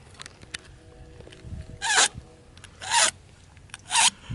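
Serrated knife blade drawn through a carbide sharpener, three rasping, buzzy scraping strokes about a second apart, each with a slight vibrating chatter, close up against a quiet background.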